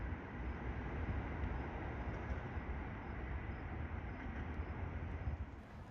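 A Canadian Pacific freight train in Montreal, heading out of the yard toward Dorval, rolls along as a steady, broad rumble that holds level for several seconds and eases slightly at the end, with no voices.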